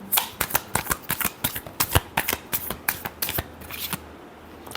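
Tarot cards are shuffled close by in a quick run of crisp, papery riffling flicks, about a dozen sharp bursts in steady rhythm, then a quiet pause at the end; no one speaks.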